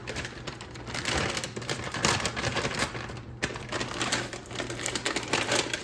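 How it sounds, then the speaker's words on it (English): Dense, continuous rapid crunching and clicking as a knife chops frozen okra on a cutting board, a busy close-up patter for several seconds without talk. "Now I'm gonna cut up some of the frozen okra."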